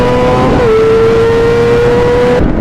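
A Suzuki GSX-R full-fairing sport bike engine holds a steady, loud drone throughout, with a brief dip in pitch early on before settling, then cutting off abruptly near the end.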